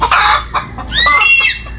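Disturbed chickens on a farm cluck close by and loud, two short agitated bursts of squawking calls, the second longer and shrill.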